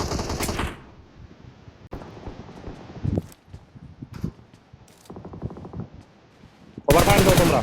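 Video-game gunfire in a tournament match, with rapid bursts of automatic fire at the start and end and sparser shots and clattering between, mixed with players talking over team voice chat.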